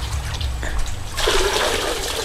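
Water is poured and mixed in a container while preparing water for koi fish, first as a low rumbling flow, then as a louder, steady rush of splashing liquid in the second half.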